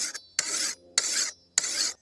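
A machete edge is sharpened by hand in four long rasping strokes, each about a third of a second to half a second, separated by short pauses, close and clear with no talk.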